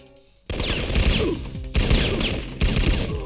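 Gunfire in the Syphon Filter video game, Stronghold level: loud, dense bursts of rapid shots hammer in three waves with brief dips between, close and dominant, no talk.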